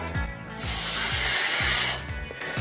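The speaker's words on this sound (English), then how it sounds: "press your tongue against your teeth and breathe powerful against this resistance" A forceful, steady hiss of breath pushed through the teeth, lasting about a second and a half over a faint rhythmic thumping in the background.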